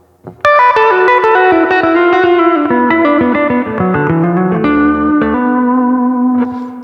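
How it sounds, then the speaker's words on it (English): An electric guitar riff with effects plays up close, single notes stepping downward with a chorused, slightly distorted tone and a reverberant tail. "so the full riff sounds like this"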